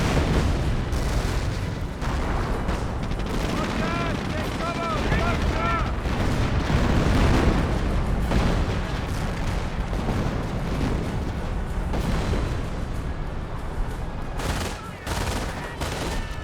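A heavy artillery barrage pounds the battlefield in the World War II strategy game Company of Heroes 1, with dense, continuous booms and gunfire rumbling loudly throughout while a commentator talks over it.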